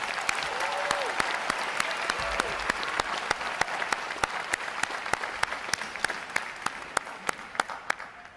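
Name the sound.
audience applause at Navy boot camp graduation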